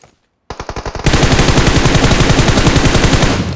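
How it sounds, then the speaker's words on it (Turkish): Enemy gunfire in the mobile battle-royale game PUBG Mobile: a few quick separate shots, then a loud, close, unbroken stream of rapid automatic fire that runs to the end. "Diğer taraf bana sıkıyor."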